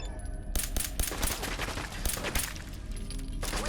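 Rapid bursts of gunfire from Fallout 4, a dense fusillade of overlapping shots and automatic fire that keeps up loudly throughout, with sharp cracks standing out over a constant battle din.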